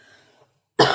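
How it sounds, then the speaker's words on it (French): A single sharp, loud cough bursts out near the end, following a quiet stretch of faint room noise; the person coughing is fighting off a lingering cold. "Cette toux."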